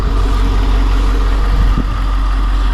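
Ford F-250 Power Stroke diesel, a Lariat Black Out Edition, sits idling with a steady deep rumble, loud and close, and no one speaks.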